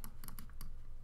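Computer keyboard keys clacking during a PC shooter game, a handful of quick taps in a short burst, close and fairly faint over a steady low background hum.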